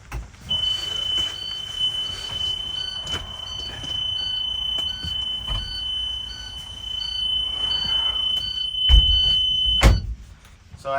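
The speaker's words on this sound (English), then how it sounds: "So as we could hear, our alarm sounded." A vehicle's rear door alarm sounds during a pre-trip inspection, a steady high electronic tone held for several seconds with repeating beeps, followed by a couple of loud thumps near the end.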